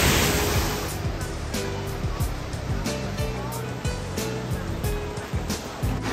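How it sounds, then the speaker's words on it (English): Waterfall at Kulen Mountain pouring into a swimming area, a steady broad roar of rushing water heard close and continuous, with faint voices now and then underneath. "That's just the waterfall."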